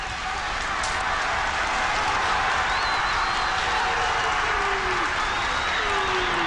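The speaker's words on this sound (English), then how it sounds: "The crowd applauding the efforts of Parramatta at the moment." Crowd applause rolling across a rugby league ground during a 1985 Parramatta versus St. George match, a distant steady wash of clapping with faint whistles above it.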